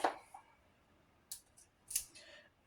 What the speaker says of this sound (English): I have to find scissors so we can check this out